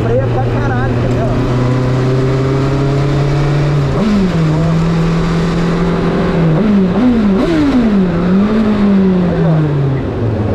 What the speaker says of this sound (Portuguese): Freio motor faz frear sem alicatar as rodas.